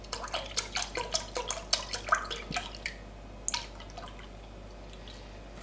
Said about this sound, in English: we're going to simply add 300 millilitres of almond milk to a bowl